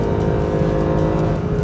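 A 2013 Mercedes-Benz SLS AMG Black Series running hard on a flat race circuit, its engine a loud, close, steady roar with a dense harmonic drone and no voices.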